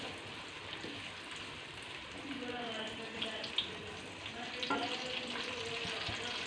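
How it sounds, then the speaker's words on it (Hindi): Onions fry in a pan with a soft, steady sizzle, close and fairly quiet, while a voice talks faintly. "प्याज फ्राई करेंगे।"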